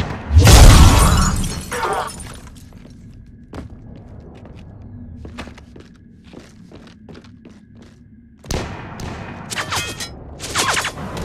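Gunfire and impacts in Mass Effect 3 on Insanity difficulty, a loud crashing burst at the start, then scattered sharp shots and thuds over a low hum, with another cluster of rapid shots near the end.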